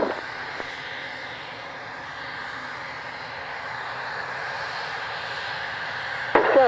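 An aircraft engine drones steadily at an air display, a continuous mid-loud hum that swells slightly near the end.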